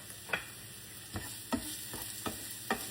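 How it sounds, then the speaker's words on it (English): Diced onions sautéing in a frying pan, a soft continuous sizzle broken by about six light scraping stirs at uneven intervals, close and fairly quiet. "we're going to start by sauteing our onions that we diced"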